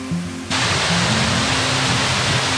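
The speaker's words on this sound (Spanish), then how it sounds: "Increíble la caída de agua que tiene esta estructura de piedra" Waterfall at La Lajita cascade near Bucaramanga, water pouring over a rock structure, a loud, dense, continuous roar that starts suddenly after a quieter moment and holds steady.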